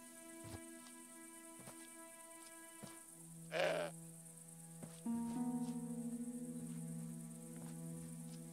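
A goat bleats in the Broken Sword 5 video game: one short, rough call, then a longer wavering bleat. Steady cricket-like chirping and low ambient tones continue underneath.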